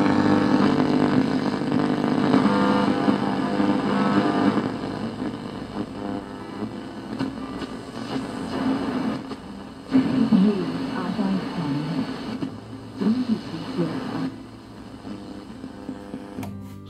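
A Sony CFD-20 portable radio cassette player, US version, tuned across the AM band with no stations coming in, giving a steady hiss and hum with shifting whines, dropouts and tuning chirps.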